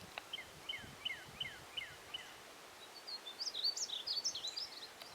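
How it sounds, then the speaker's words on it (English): A painted bunting sings outdoors in cross timbers woodland: a run of five quick, evenly spaced chirps, then a faster jumbled warble of high notes, fairly distant over faint rustling. "painted buntings, North America's most colorful bird, and up there singing for us"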